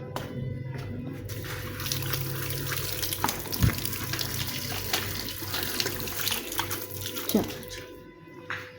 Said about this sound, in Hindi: पाँव धो लूँ जल्दी से, पाँव गंदे हो रहे हैं।